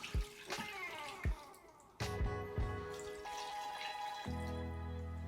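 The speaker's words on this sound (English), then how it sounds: "And then we're going to add water. And we want to completely submerge these." Water pours into a pot of Chinese BBQ spareribs, quiet splashes and drips giving way to a steady running stream, faint and close with no talk.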